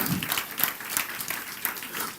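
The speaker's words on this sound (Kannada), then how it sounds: "ಇದಕ್ಕೊಂದು ಜೋರಾಗಿ ಚಪ್ಪಾಳೆ ತಟ್ರಿ" A church congregation applauds during a sermon, a soft, steady spatter of clapping from many hands that carries on evenly through the whole moment with no voices over it.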